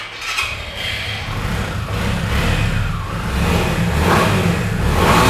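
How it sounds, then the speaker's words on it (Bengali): A Suzuki Samurai motorcycle engine revs up and holds, a loud continuous mid-pitched roar that climbs gradually in intensity. "গাড়ির ইঞ্জিনের সাউন্ডটাও কিন্তু অন্যরকম ভাই"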